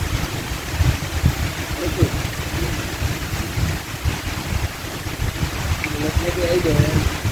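Rain and gusty wind sweep over an open countryside spot, forming a steady, dense hiss and rumble throughout, with faint voices briefly audible near the end.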